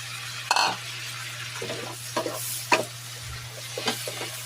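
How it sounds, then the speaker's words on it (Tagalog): Garlic butter shrimp sauté in a pan with a soft sizzle as a utensil stirs them, giving several sharp scrapes and clinks at uneven intervals over a low steady hum. "Imimix lang natin maigi guys. Igigisa ko lang muna maigi hanggang mag-absorb."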